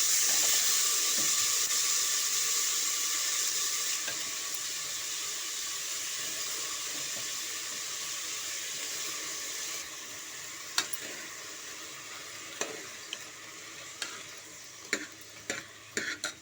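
Field beans, potato and brinjal frying in oil in a pressure cooker give a hiss that fades slightly, followed by a few distinct clicks and taps of a ladle against the pot.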